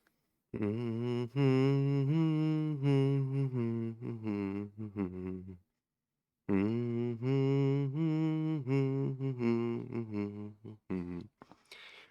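A voice hums the Pirates of the Caribbean theme close into a microphone, a steady melodic phrase that breaks off for about a second before the tune resumes and runs to the end.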